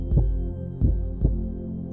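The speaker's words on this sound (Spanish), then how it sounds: "a los latidos de tu corazón." A heartbeat pulses under a guided meditation, deep muffled thumps spaced evenly over a continuous low hum with no voice.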